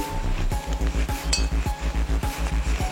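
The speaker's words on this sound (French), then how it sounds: "vous serrez l'adaptateur sur la bouteille" A CO2 adapter is screwed onto a SodaStream bottle for an aquarium setup, giving a steady run of close, rhythmic metallic clicks and clinks about every quarter second, like a ratcheting thread turning.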